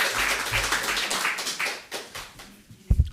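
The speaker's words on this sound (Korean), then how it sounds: "하나님 앞에 박수를 영광을 드리겠습니다" A church congregation claps for God's glory at a Korean Full Gospel church's relocation thanksgiving service, with loud dense clapping for about two seconds that thins into scattered claps, and a couple of sharp taps near the end.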